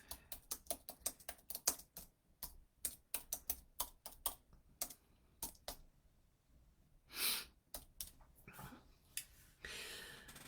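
Someone typing a note on a computer keyboard in quick, irregular runs of crisp key taps, close and fairly quiet, broken by a soft breath and a few pauses, with no speech.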